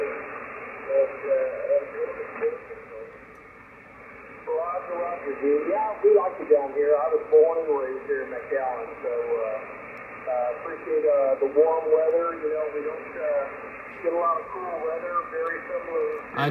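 Weak single-sideband voice signal received on a Yaesu FT-991A and an ICOM IC-7300 transceiver, with digital noise reduction off, pulled from a constant hiss. The garbled, band-limited speech fades in and out over the noise floor.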